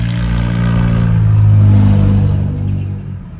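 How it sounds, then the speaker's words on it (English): Loud cars roar past nearby, a heavy engine rumble that swells and then fades, with light clattering near the end. "Those are the loud cars out there."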